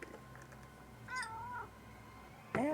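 A cat meows twice in a quiet room, a short wavering call near the middle and a sharper, louder one at the end, both close by.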